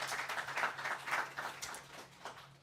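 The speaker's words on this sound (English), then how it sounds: "please give them another huge round of applause" Audience in a hall at a forum in Ljubljana giving a round of applause, steady moderately distant clapping with a faint low hum underneath.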